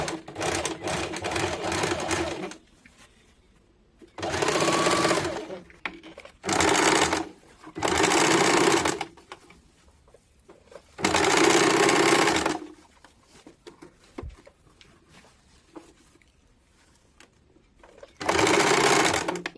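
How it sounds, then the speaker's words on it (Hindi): A sewing machine stitches a half-inch seam along a petticoat waistband, running in several separate loud bursts of steady whirring with quiet pauses between them. "हाफ इंच में पूरे में सिलाई डाल देंगे"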